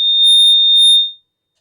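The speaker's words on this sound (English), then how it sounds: "That was a siren sound." A short electronic alarm tone, a steady high-pitched beep in two quick pulses, loud and alone before cutting to silence.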